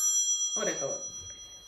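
A phone rings with a sustained electronic bell-like tone that holds throughout, while a person speaks briefly over it.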